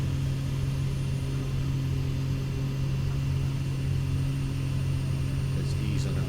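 Pilatus PC-6 turboprop engine in Microsoft Flight Simulator 2024 drones steadily at reduced power during a flight over Papua, a constant low rumble with a strong tonal hum filling the whole stretch.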